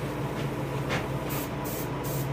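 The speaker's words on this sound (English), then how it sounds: "you can angle spray from the other side" An airbrush sprays paint onto a largemouth bass taxidermy mount, a constant close hiss with short louder bursts near the end as the nozzle is angled from side to side, no voices.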